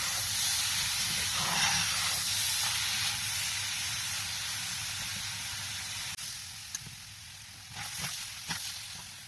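Grated carrot halwa roasts in a pan as dry milk is added bit by bit, a steady hiss that slowly fades, with a few light scrapes and taps of a spoon near the end and no talking.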